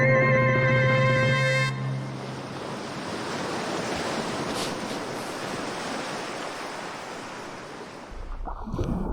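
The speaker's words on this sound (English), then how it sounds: "Some waves and some bubbles for those of you in Boise, Iowa, who don't have an opportunity to come to the beach that often" Ocean waves wash steadily onto a beach, a continuous close roar of surf and fizzing bubbles with some wind noise on the microphone, after a brief tonal sound at the start.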